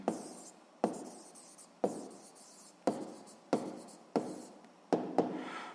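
Pen on paper writing out physics calculations by hand, a series of about eight distinct scratchy strokes each starting sharply and trailing off, close and quiet with no talking.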